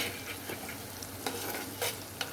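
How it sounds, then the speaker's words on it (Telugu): Potato fry sizzling in a clay pot, a steady soft frying hiss with a few brief stirring scrapes and clinks, close and fairly quiet, no talk. "ఇక్కడ మట్టి పాత్రలో ఆలూ ఫ్రై అవుతుంది"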